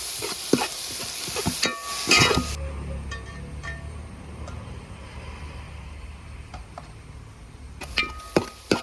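Curry leaves hit a hot pan with a burst of loud sizzling and spattering, then settle into a steady low frying hiss with occasional clinks of a utensil against the pan.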